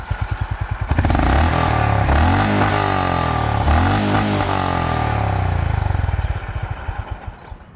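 A Royal Enfield Classic 350 motorcycle engine idles with a loping exhaust beat, revs up for several seconds, then settles back to a thumping idle; close and loud.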